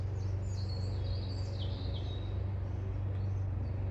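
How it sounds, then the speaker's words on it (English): Birds sing and chirp outdoors in short high-pitched phrases, fairly faint against a steady low hum and background noise, with no one talking. "We're hearing bird song."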